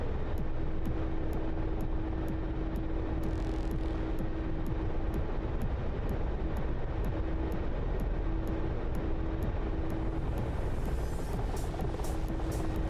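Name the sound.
helicopter flying in the video game DCS World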